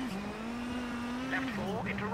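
A WRC rally car in WRC 8 slides through a corner, its engine holding a steady drone that dips briefly as the tyres scrabble, fairly quiet beneath someone talking.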